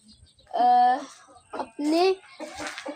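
Chickens cluck and squawk in short loud bursts close by, with a few quieter calls between them in a backyard coop.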